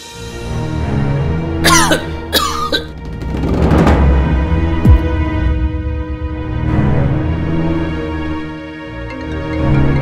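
A sick man with a high fever coughs in a short, harsh burst of two or three coughs near the start, followed by strained throat sounds over a steady background hum.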